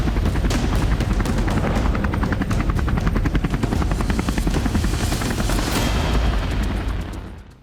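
A Polish Army Mi-24 military helicopter thunders close by, its rotor beating in a loud, steady rapid chop that holds throughout before tapering off at the end.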